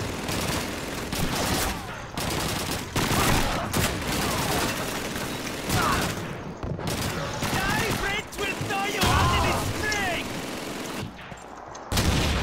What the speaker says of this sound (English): Another MG42.